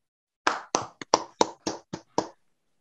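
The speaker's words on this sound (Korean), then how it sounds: "뜨거운 박수로 모시겠습니다." Sparse hand claps greeting a speaker at a lecture on the climate and energy crisis, about eight distinct claps in a quick uneven run, close and clear, with no talking.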